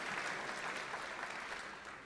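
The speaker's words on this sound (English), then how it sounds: "I think you all deserve a well round of applause." Applause from a commencement audience at a 2022 college graduation ceremony, steady, even clapping that carries on for about two seconds and fades slightly toward the end.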